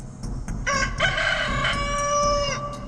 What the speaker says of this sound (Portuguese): Imediatamente um galo cantou.